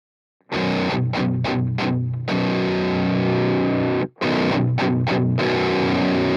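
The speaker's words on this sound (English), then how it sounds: "It sounds more open with the shift off, but with it on, it's like more compressed." Distorted electric guitar through the Neural DSP Archetype amp plugin, loud saturated chords with quick choppy stabs, then a long sustained chord and more stabs, close and alone with no talking.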